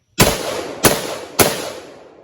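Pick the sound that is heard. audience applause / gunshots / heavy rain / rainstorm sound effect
gunshots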